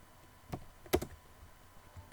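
Typing on a computer keyboard while coding, a few isolated keystrokes with one sharper clack in the middle, close and fairly quiet in a still room.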